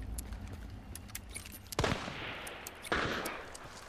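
Gunfire in the video game Hunt: Showdown, two sharp heavy blasts about a second apart, moderately distant, with faint clicks and ambient noise between them.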